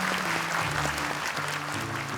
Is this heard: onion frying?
no